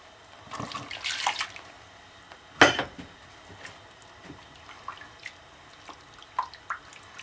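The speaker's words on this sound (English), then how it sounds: "We're going to add 1 cup of reserved water from the noodles." Reserved noodle cooking water for a Mexican white spaghetti sauce is poured into a pan, giving a short, quiet splashing pour followed by scattered drips, with no voices.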